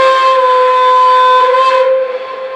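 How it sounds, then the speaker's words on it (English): A model 0-4-0 steam locomotive's whistle blows as a steady, loud, shrill multi-tone chord for about two seconds, then cuts off and leaves a fainter lingering tone. "Here's the whistle"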